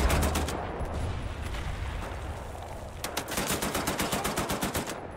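Rapid automatic gunfire in the video game Wolfenstein: The New Order, with loud bursts at the start and then a sustained, evenly spaced machine-gun volley in the second half, all close and prominent.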